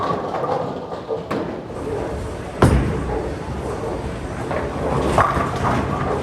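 An asymmetrical bowling ball rolls down the lane with a low rumble and then strikes the pins in a sharp crash, followed by lingering clatter and alley ambience.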